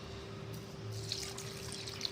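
Water is poured from a measuring vessel into a mixer grinder jar of partly ground rice for rice flour batter, making a steady close splashing trickle with no voices.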